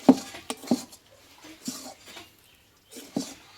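A utensil stirs garam masala into a pointed gourd filling in a pan, making sparse, light clinks and scrapes of metal against cookware with quiet gaps between them.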